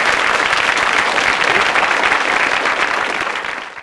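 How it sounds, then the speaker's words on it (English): Loud, sustained applause from a studio audience fills the whole stretch, dense and steady before easing slightly at the end. "A big round of applause"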